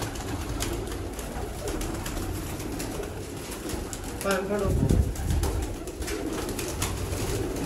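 Pigeons for sale coo softly, with a low, throaty burst of cooing midway, while people talk nearby.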